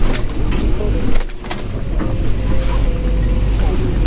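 A Fendt 716 Vario tractor drives with its throttle eased off, giving a loud, steady low engine rumble with some cab rattle and a brief dip before the drone resumes.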